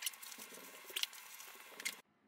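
Scissors cutting a circle from paper for a DIY rainstick tube, quiet close snipping and crinkling that runs continuously, then stops abruptly.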